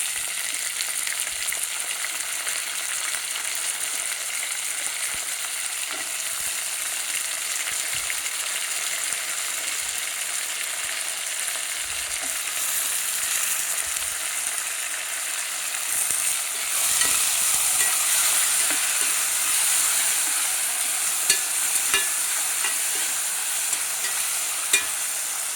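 Tomatoes go into a pan of frying chopped garlic and ginger, giving a loud, continuous close sizzle with stirring scrapes that swells partway through; nobody speaks.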